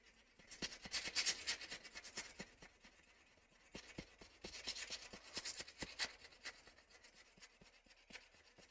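Sandpaper rubbing over the shell of a G502X Superlight computer mouse, a close, steady rasping in repeated short strokes with a pause midway, no talking.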